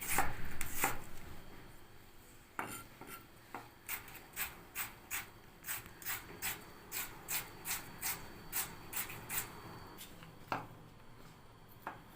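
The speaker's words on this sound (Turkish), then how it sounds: "Öncelikle patateslerimi burnuva şeklinde doğrayacağım." Rapid, regular knife chops on a cutting board, a steady rhythmic series of crisp taps dicing potatoes into small pieces, close and clear.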